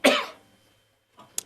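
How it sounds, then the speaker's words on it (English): A single close, sharp cough bursts out at the start, followed by quiet and a brief throat sound near the end, in a room where someone is playing dobro. "Typical, get a cough right on a live stream."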